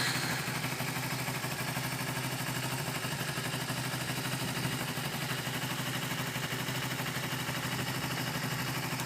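A carbureted 250 motorcycle engine idles steadily, a continuous mid-pitched mechanical drone with light clatter holding the same level throughout, fairly close and with no voices over it.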